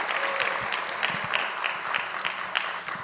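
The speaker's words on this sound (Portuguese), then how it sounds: "Palmas para Jesus, irmãos" A church congregation claps together in a lively, rhythmic burst of applause during a Portuguese-language worship service, moderately distant, with faint voices underneath.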